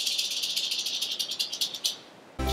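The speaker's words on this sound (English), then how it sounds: "snake can vibrate his tail really fast when he's upset. And when it vibrates, it sounds kind of like..." A snake vibrates its tail very fast, making a dry, rapid rattling buzz that pulses in quick beats for about two seconds, close and fairly loud, before it cuts off abruptly.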